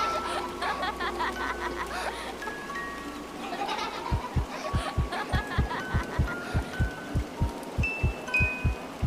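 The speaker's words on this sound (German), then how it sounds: "wir hören also unser Herz rasen" A fast, steady heartbeat thumps in a low, regular rhythm in the game Montague's Mount, with higher synthetic game sounds and faint tones layered above.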